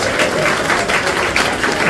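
Audience applause at a Hindi kavi sammelan poetry recital, a steady dense wash of many hands clapping that holds at an even, loud level throughout without pause.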